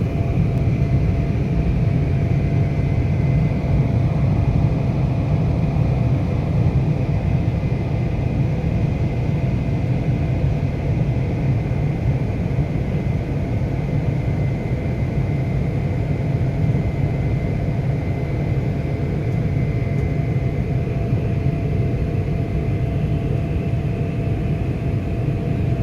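An airplane takes off with a steady, loud low-frequency roar that holds constant throughout, a continuous engine rumble with no pauses and no voices.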